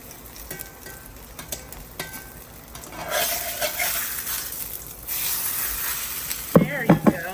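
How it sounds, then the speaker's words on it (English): Birria tacos deep frying in hot oil, with scraping stirs and clinks at first, then loud, steady sizzling that swells as more goes in, and a brief voice near the end. "Well, now we're deep frying them."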